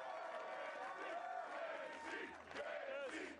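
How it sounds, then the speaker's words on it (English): A loud, sustained roar of cheering and shouting from the crowd at an American Ninja Warrior course, steady and full throughout with voices rising and falling. "Such great energy from the crowd"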